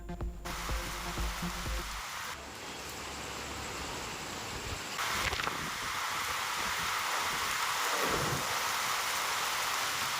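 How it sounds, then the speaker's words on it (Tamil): Heavy rain falls in a thunderstorm in Tamil Nadu, a broad steady hiss of downpour with low rumbling beneath and a brief swelling gust, moderately loud and continuous without speech. "தமிழகத்தின் பல்வேறு மாவட்டங்களில் இடி மின்னலுடன் பெய்த கனமழை"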